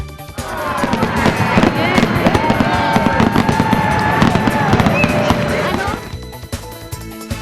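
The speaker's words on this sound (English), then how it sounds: "a sesquicentennial band, and a spectacular fireworks display" A spectacular fireworks display at a sesquicentennial celebration crackles and booms loudly and continuously for about six seconds, dense bursts overlapping with faint voices of a crowd underneath, then dropping to quieter scattered pops.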